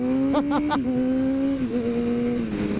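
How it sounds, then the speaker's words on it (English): Motorcycle engine revving during a wheelie attempt on a custom-built bike, a close steady drone that rises in short blips early on and then holds and shifts in pitch. "That was the worst wheelie ever."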